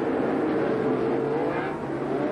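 Race cars at the 1993 Busch Grand National Mountain Dew 400 at Hickory roar continuously around the track in a dense, loud engine drone with a slight shift in pitch.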